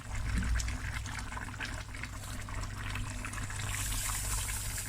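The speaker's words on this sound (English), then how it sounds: "add enough water to cover" Water pours steadily into a pot of chicken akhni with rice, a continuous close trickling and filling sound with no talk.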